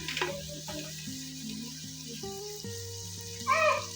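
Chopped tomatoes dropped into a pot of hot oil with cardamom, cooking for a goat head dish, crackling and sizzling steadily with a louder burst of spattering near the end, under a layer of soft background music.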